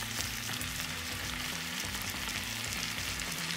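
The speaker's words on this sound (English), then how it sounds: "So now our chicken has been cooking for 20 minutes." Chicken sizzles steadily in a pan for an Indian-style chicken dry fry, with a loud continuous hiss and crackle close up and no talking.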